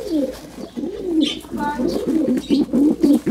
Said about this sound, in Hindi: बहुत ज़्यादा कबूतर है हमारे पास